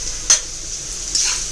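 Bitter gourd frying in a pan, with two brief scraping stirs over a steady, soft sizzling hiss; no voices.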